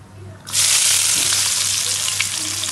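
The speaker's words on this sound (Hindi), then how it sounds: "हम लोग सॉफ्ट होने तक फ्राई कर लेंगे" Chopped onions and ingredients for chicken majboos hit a hot pan and burst into a loud, dense, continuous sizzle that holds steady up close.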